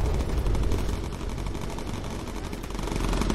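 Dense, continuous automatic gunfire from a World War II bomber's guns in the game Bomber Crew. It rattles steadily at full volume for the whole stretch without a break.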